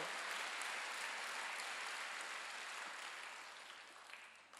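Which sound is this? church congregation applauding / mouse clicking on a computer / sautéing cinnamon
church congregation applauding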